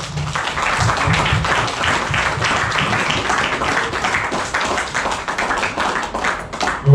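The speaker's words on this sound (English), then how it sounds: "So let's give them a round of applause." An audience at a film festival event gives a steady round of applause, dense overlapping clapping from many hands lasting throughout at an even level.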